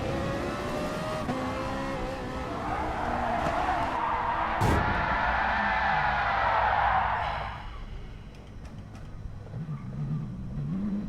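Race car in a racing video game skids through a corner, a loud sustained tyre-scrubbing roar over engine drone for several seconds, then fading to a lower engine hum as the car recovers.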